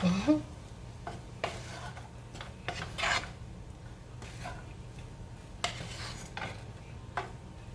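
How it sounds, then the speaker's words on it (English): A spatula stirs salmon and shrimp fried rice in a pan, giving soft, intermittent scraping and rasping strokes over a faint background hum, with no one talking. "And let's stir it in there."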